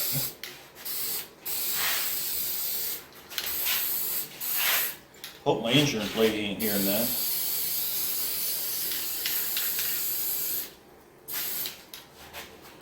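Steady hissing spray of a coating onto a 225 intake manifold from a 1974 Dodge D100 runs nearly the whole time, briefly broken by someone speaking over it in the middle, then resuming loud and close.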